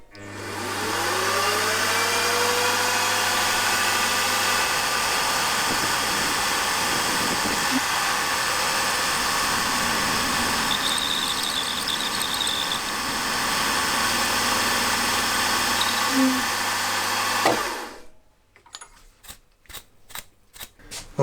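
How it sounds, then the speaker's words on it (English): A milling machine cuts a hole with a 3/16 two-flute end mill in a cylinder head for an opposed twin engine, giving a steady loud whirring drone for about seventeen seconds before it spins down, followed by a few sharp clicks. "having milled that hole now"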